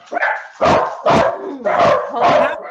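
Several dogs bark at someone outside a window, loud and close, in four or five sharp bursts with short gaps between them.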